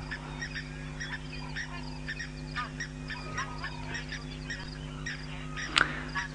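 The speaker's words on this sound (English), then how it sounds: "these two rather magnificent white-faced whistling ducks here" A pair of white-faced whistling ducks calls repeatedly on a sunrise safari drive, giving honking, whistling notes in an irregular series over a steady low hum, with one sharper call near the end.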